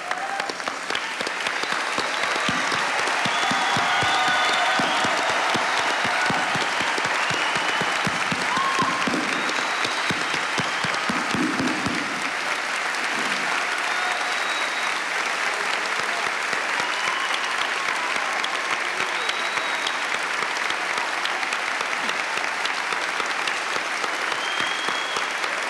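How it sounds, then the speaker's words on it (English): Steady, dense applause from a large audience at a 2000 university commencement ceremony as medical degree recipients are named, continuous clapping lasting throughout with a faint voice briefly under it. "A round of applause."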